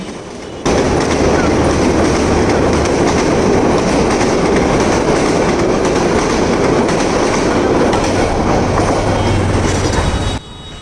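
A train rolls past a railway crossing signal near Mirer Bazar in Gazipur, Bangladesh, a loud, close, continuous roar of wheels clattering on the rails that carries on for about ten seconds before dropping away.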